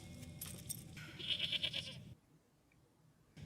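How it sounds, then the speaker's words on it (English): A small goat bleats in a short burst of bleats, fairly close and moderately loud, followed by a quieter pause and then some rustling noise. "Please don't hurt the little goat."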